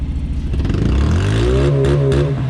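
A race car engine revs hard and close against its rev limiter, a loud, rising, steady roar with a buzzing, clattering edge and no voices.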